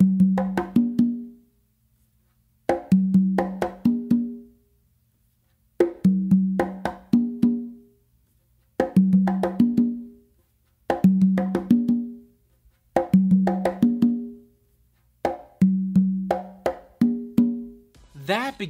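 A modern funk groove is played on congas, a repeating pattern of crisp slaps and open tones cycling about every two and a half seconds, steady and close, with no voices.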